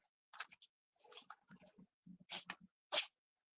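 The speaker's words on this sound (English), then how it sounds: "My cat sneezing over there." A pet cat sneezes indoors: two short, sharp, breathy bursts close together near the end, fairly faint, after a stretch of soft scattered rustling and small taps with no talking.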